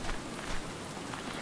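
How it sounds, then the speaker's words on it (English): Rain pours down in the survival video game Stranded Deep, a dense, even hiss of drops striking surfaces, fairly loud and unbroken, with no talking. "because it's raining"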